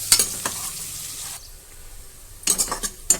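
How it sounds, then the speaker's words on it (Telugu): Onions fry in a pan toward golden brown, a sizzle broken by several sharp clinks and scrapes of a utensil against the pan, quieter in the middle stretch. "ఇవి గోల్డెన్ బ్రౌన్ కలర్లోకి వచ్చేంత వరకు వేయించుకోవాలండి ఆనియన్స్"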